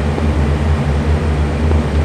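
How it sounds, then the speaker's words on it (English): A Hawker Tempest fighter plane flies past in a combat flight game. A loud, continuous engine drone with a low throbbing propeller hum carries steadily throughout. "Yeah, I see him going by. It looks like a Tempest."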